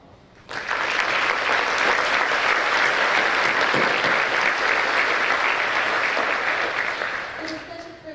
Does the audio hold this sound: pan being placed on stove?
no